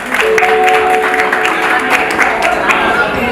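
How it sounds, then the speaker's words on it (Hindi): Audience applause at a retirement farewell ceremony for a superintending engineer, a dense wash of clapping that runs steadily through the whole stretch with a voice and some tonal sound mixed in over it. "जोरदार तालियां लगा लीजिए"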